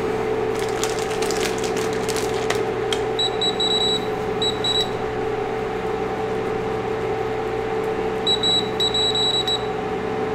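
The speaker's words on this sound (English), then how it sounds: "if anybody has any experience with these hot plates, please let me know what it means when it beeps in random succession over and over again" An electric hot plate in a home kitchen beeps in short, high, repeated bursts at irregular intervals. The beeps sit over a steady background hum, with a few clicks early on, and there is no talk.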